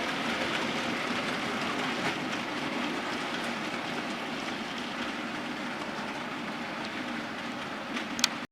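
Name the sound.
passing train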